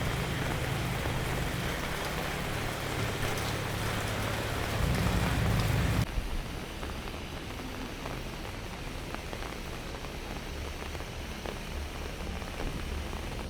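Steady hiss of rain falling by a swollen river in Vang Vieng, dense and even throughout, with a low rumble early on that drops away abruptly, leaving softer rain patter.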